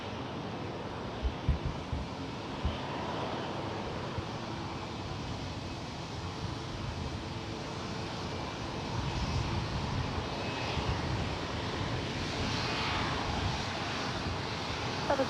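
A Southwest airliner takes off from San Jose airport's runway 30 right, its jet engines a steady broad roar heard from a distance with wind noise and a slight swell in the latter half.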